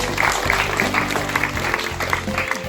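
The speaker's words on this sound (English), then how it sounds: "Let's give our volunteers a round of applause" An audience at a wildlife sanctuary's Australiana show in a shearing shed applauds volunteers, the clapping blending with loud background music throughout the brief moment.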